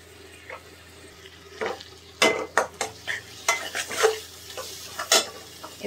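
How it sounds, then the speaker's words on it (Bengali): Spice paste for a dried chanda fish dopiaza being stirred and fried in a pan, with an irregular series of loud scraping stirs over a steady low sizzle. "মশলাটাকে আমি ভালো মতো কষিয়ে নিই"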